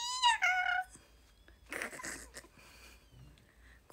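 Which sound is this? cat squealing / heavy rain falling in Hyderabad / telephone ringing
cat squealing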